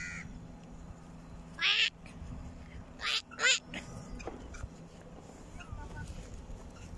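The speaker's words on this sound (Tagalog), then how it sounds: "Pato man na." Ducks quacking in short bursts on a beach at sunrise, a few loud calls clustered together near the middle over a steady low background hum, with faint scattered sounds around them.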